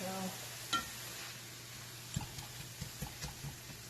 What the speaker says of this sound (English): you see how quickly this meat is browning